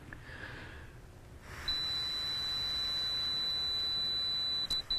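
An alcohol detection device emits a steady, thin, high-pitched continuous beep that starts partway through and holds to the end over a quiet room hiss.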